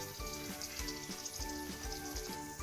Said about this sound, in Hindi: ये तेल हो चुका है गरम और मैं उसमें डालूंगी दो तीन लाल मिर्च